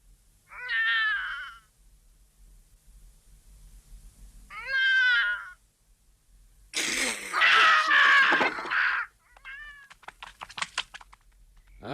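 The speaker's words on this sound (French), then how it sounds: "c'était le chat." A cat meows twice, loud and close in a quiet room, followed by a burst of rustling and clattering, then a short final meow with light tapping clicks.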